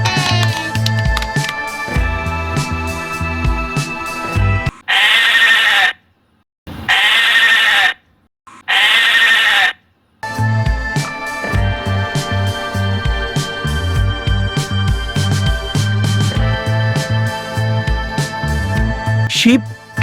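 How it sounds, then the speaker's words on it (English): Sheep bleating in three short, loud, wavering bursts separated by silent gaps, placed between long stretches of busy background music. "Sheep."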